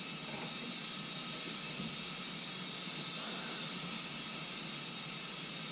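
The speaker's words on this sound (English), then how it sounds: "You can actually hear the crackling of air." Air purging through the heating loop of a Navien NCB 240 combi boiler with baseboard heaters gives a steady airy hiss with faint crackling underneath, continuous and fairly quiet, with no talking.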